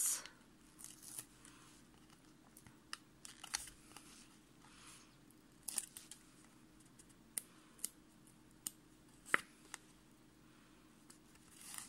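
Double-sided tape having its backing peeled away, a series of faint, short crackling tears and soft ticks spread across a quiet stretch, heard close and alone.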